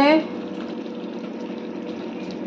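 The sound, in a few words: chicken being slow-cooked (kosha) in a pan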